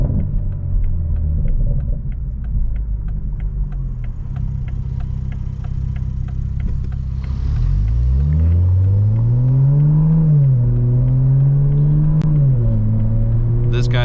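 A modified 2020 Toyota Supra making over 500 wheel horsepower idles with a deep rumble, then accelerates onto a highway at night, its close, loud engine note rising and falling through gear changes.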